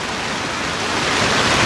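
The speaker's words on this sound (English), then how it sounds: "it might be raining" Rain falls outdoors at a town campaign kickoff event, a loud, dense, steady hiss of drops, uniform throughout and slightly rising, heard alone with no voices.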